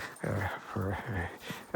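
An older dog out on a walk, giving several short whimpering, yipping vocal bursts in quick succession, close and fairly loud, with brief pauses between them.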